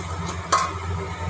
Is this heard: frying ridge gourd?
yes